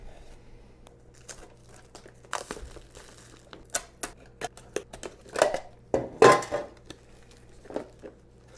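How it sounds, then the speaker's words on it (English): Cellophane wrapping is peeled and crinkled off a Campark V30 4K action camera box in scattered crackly bursts, close and fairly quiet, growing busier toward the end. "Let's unbox this thing. It's completely wrapped in cellophane."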